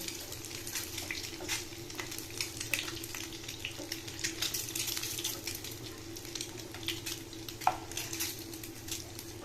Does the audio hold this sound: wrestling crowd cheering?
no